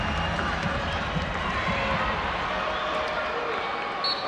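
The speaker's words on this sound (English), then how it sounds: "the crowd gets even louder here at the Jenny Craig Pavilion" Loud, dense crowd roaring and cheering continuously at a women's college volleyball match in the Jenny Craig Pavilion, San Diego, sustained at full volume throughout.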